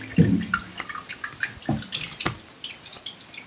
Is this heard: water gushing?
yes